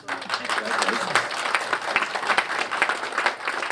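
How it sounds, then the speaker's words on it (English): Applause from a conference audience after a CISO panel session, many hands clapping in a lively uneven patter that swells quickly and keeps going for several seconds. "Round of applause."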